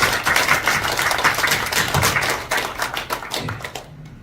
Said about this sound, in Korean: 김정기 총재님께서 그룹 차원에서 도와주겠다고 해서 박수 한번 부탁드리겠습니다.